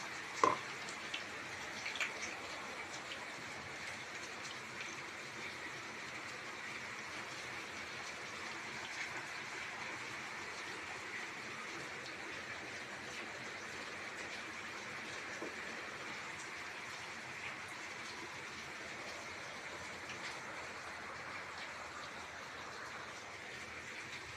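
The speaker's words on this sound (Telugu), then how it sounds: "నూనె అలా కాగిన తర్వాత బజ్జీలను ఇలా వేయాలి" Mirchi bajji with ajwain deep-frying in hot oil: a faint, even, continuous hiss that holds steady throughout, with one soft knock near the start.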